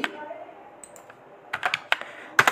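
Computer keyboard keys typed while entering column letters in an Excel spreadsheet, a few scattered sharp clicks and a short burst of taps close up, with quiet room tone and no talk over them.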